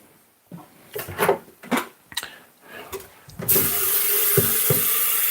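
A kitchen tap runs steadily to fill a kettle, starting after a few nearby clunks and knocks of handling, then holding a constant rushing flow to the end.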